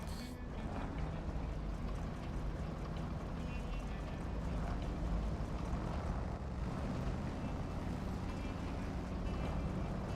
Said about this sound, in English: Here the engine's starting to wobble a little bit. That means it's starting to reach the bottom of the tank.